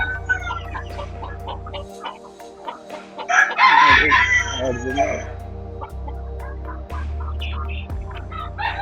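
On a farm keeping rare fancy chickens, a rooster crows loudly once in the middle while hens cluck around it and a steady low hum runs underneath.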